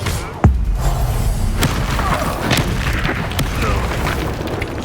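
A spell blast from Hogwarts Legacy lands as one sharp, loud boom near the start, then fades into a sustained rumbling game ambience.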